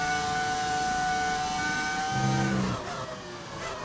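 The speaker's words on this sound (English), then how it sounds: "It's an engine mod, so it's the V10 engine." A V10 engine mod on a Formula 1 car in F1 25, a high-pitched engine wailing steadily and rising in tone, then dropping off as the revs fall near the end.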